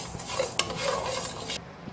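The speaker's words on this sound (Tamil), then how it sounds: "அரிசியும் நல்லா பக்குவமாக வறுத்து எடுக்கணும்" Rice dry roasting in a pan for sambar powder makes a soft, close rustle and scrape as it is stirred, with one sharp tick of a spoon against the pan partway through. The sound is fairly quiet and cuts off near the end.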